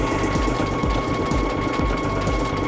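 A sewing machine stitching decorative heirloom stitches, a steady fast mechanical whirring and clatter running continuously and loud at close range with no voices.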